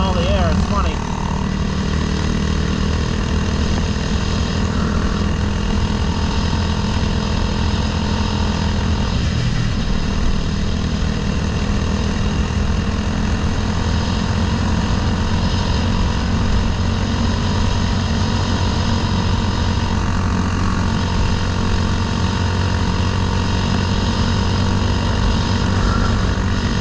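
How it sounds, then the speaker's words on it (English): A Honda Grom swapped with a CBR300R engine, loud and close, its engine droning steadily with intake noise through the air filter while a person talks over it. "when you harp it, you can hear the filter right there just sucking all the air"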